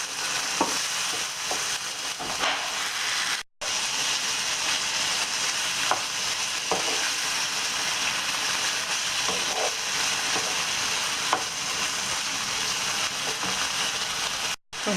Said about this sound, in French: donc les 2 filets de poulet coupés en dés ou en cubes comme vous voulez. Et donc vous faites revenir le tout.